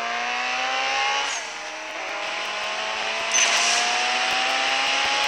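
A race car in the CSR Racing 2 video game revs hard through rising gear sweeps, with a shift break partway and another surge near the end, loud and continuous with no talk.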